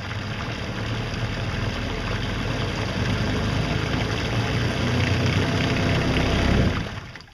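Ultralight solar-powered speedboat with its electric motor running under throttle, a steady broadband whir and water wash that holds and builds slightly before cutting off sharply near the end.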